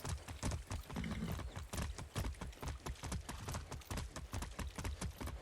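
A horse's hooves clip-clop steadily in an even walking rhythm in the Far Cry 6 video game, close and fairly loud throughout with no talking over it.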